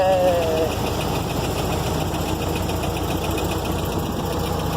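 A Model T Ford engine runs in high gear with a steady, close mechanical drone and a fine, even knocking pulse that holds without pause throughout.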